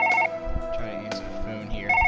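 A telephone rings in the surgery video game Surgeon Simulator, with repeated bright electronic ring bursts at the start and end over a busy bed of game noise and clatter.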